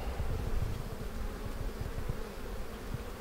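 Honeybees hum steadily inside an opened beehive during spring hive work, a dense, continuous low buzz close by with no voices.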